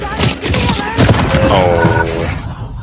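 Sniper fire in a video game crackles amid a few dull booms and thumps, mixed under a player's excited voice and game sound effects in a short, busy burst.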